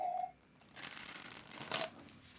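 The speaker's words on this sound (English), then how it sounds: "That was a horrible shuffle." Oracle cards being shuffled by hand indoors, a brief faint riffle with two quick papery bursts after a short tone, close and quiet.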